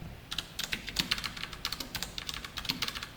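Rapid typing on a computer keyboard while writing code, a near, steady run of crisp key clicks in quick succession with brief gaps, heard on its own without voices.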